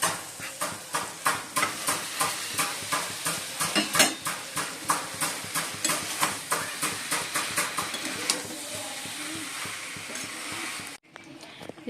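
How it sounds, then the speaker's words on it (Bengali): Spices for a soybean and potato curry, with onion, garlic, cumin, coriander and Kashmiri chili powder, are stir-fried in a pan. A spatula scrapes in a regular rhythm of about two strokes per second over a soft sizzle, close by, with no speech. "মশলাটা কষিয়ে নিচ্ছি"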